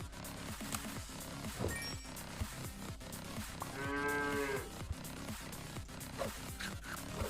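A cow mooing once in Super Auto Pets, a drawn-out low call set over busy game music with a rhythmic beat.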